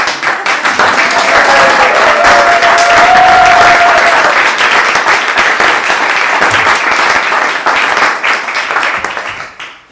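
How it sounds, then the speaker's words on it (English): An audience at an Idyllwild Arts Idytalk applauds at the end of a talk: steady, dense clapping from many hands that carries on loudly for several seconds, then thins and tapers off. "Can we applaud now?"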